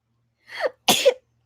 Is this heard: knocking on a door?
no